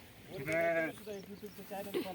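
Goats bleat at a village livestock pen as they are let out, with one clear, wavering bleat followed by softer, shorter calls close by.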